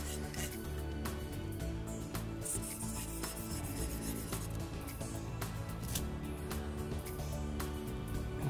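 Repeated rubbing and rasping against an edge to round it off before magnets go in, a continuous scratchy friction with small clicks and taps, heard close up.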